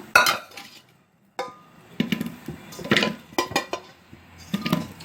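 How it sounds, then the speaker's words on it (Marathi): Steel pots and utensils clatter and clink in bursts as potatoes are loaded into a pressure cooker, the knocks close and sharp with short quiet gaps between them. "आता आपण हे कुकरला लावून घेऊया"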